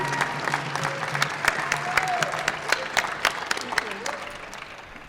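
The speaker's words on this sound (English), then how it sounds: "Let's give her a round of applause" A conference audience claps for a contestant being called up at a national elevator pitch competition final, with brisk steady applause, sharp individual claps and a few faint voices mixed in.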